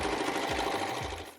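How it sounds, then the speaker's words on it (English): A serger sews a seam along a t-shirt with a fast, close, steady mechanical whir and rapid stitching chatter that slows slightly and fades at the end. "I'm gonna go ahead and serge this or shallow zigzag it all along so that it is completely going around the t-shirt"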